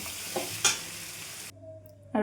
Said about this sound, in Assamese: খুব ধুনীয়াকৈ কলডিল আৰু মাংসৰ ভাজিখন সিজিছে